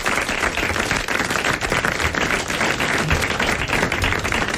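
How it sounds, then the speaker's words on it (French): An audience applauds the winner of a 1989 French TV game show, dense steady clapping that fills the room throughout. "Vous l'applaudissez."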